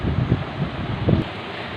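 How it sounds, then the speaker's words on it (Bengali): Steady wind blows past an open window on an evening before rain, producing a low, rumbling buffeting that swells in a few gusts and stays fairly loud and close. "এই যে এখন বসে আছি জানলা ধারে, আর এত সুন্দর বাতাস দিচ্ছে"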